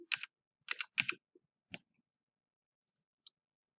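Short bursts of keystrokes on a computer keyboard, a few quick clusters of clicks followed by sparse single taps, close and clear against silence.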